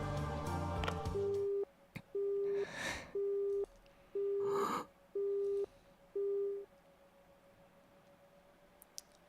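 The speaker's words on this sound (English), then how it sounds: "suddenly I heard the cold electronic beep of an ended call" Six evenly spaced electronic tones mark an ended phone call in the game CHAOS;CHILD, a cold, clear, repeating beep with breathy noises between.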